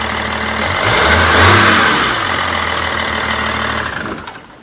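A Land Rover Discovery 3 with a swapped engine starts for the first time and runs, loud and close, swelling in a brief rev before settling into a rough idle and tapering off.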